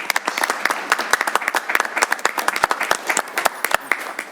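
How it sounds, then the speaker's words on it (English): An audience at a Saginaw 2024 Memorial Cup informational meeting claps for a speaker, a dense, lively run of overlapping handclaps that stays strong from start to finish. "let's give her a round of applause first of all"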